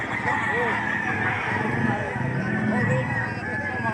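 Chickens at the Padre Garcia livestock auction market in Batangas crow and cluck amid a dense, noisy crowd din, with voices mixed into the steady background.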